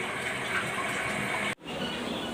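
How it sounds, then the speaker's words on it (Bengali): Thick, homemade fruit syrup thickened with lemon juice pours steadily into a bowl, making a close, continuous liquid gushing sound that breaks off briefly near the end. "আমি এখন একটা বাটিতে ঢেলে নিচ্ছি"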